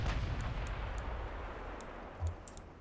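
Naval 16-inch guns boom in the Ultimate Admiral Dreadnoughts video game, a heavy, rumbling low report that fades out, then a second muffled thud, with faint clicks over it.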